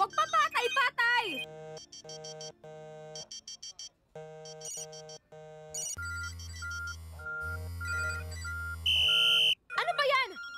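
A mobile phone ringtone during a basketball practice, a loud electronic melody of repeated beeping tones playing for several seconds, with a voice heard at the start and at the end.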